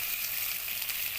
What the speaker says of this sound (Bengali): তেলটা দিয়ে দিয়েছি, এখন আলুগুলি দিয়ে দেবো।